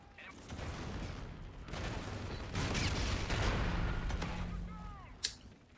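Weapon fire in the shooter Call of Duty: Infinite Warfare, a dense run of shots and booms blending into a continuous barrage with one sharp report near the end; a voice is audible faintly.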